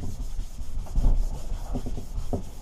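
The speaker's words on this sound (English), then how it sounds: "Sand them down as much as I really want them to be" Sanding lawnmower handlebars during a restoration, a close, steady abrasive rubbing with rhythmic back-and-forth strokes and no talking.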